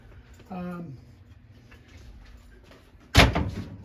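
Doors being closed at a Boca Raton estate auction: a sharp, loud knock near the end after a quieter stretch, with a short creak or squeak before it and a voice in the background.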